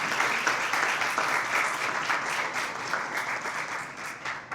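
Steady, dense applause from a crowd, sustained throughout without letting up.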